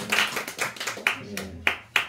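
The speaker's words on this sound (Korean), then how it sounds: "우리 박수로 환영해 주시기 바랍니다" A church congregation at a Sunday afternoon service in Korea claps to welcome an elderly member, with scattered, uneven hand claps and a few sharper claps standing out over a murmur of voices.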